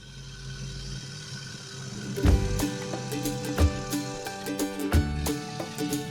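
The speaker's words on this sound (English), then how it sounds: "This required me to remove some more material with a carbide cutter to form the undercut" A carbide cutter works a maple and green-and-purple epoxy resin bowl spinning on a woodturning lathe. The machine gives a steady whir, broken by several sharp, louder bursts as the cutter bites into the bowl.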